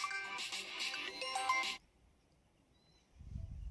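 A mobile phone ringtone plays a bright, tinkling melody for under two seconds, then cuts off into near silence before low rumbling background noise returns.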